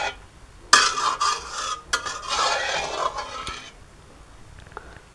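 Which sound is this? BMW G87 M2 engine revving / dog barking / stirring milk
stirring milk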